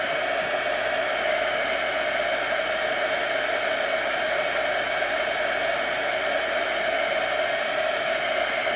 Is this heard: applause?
no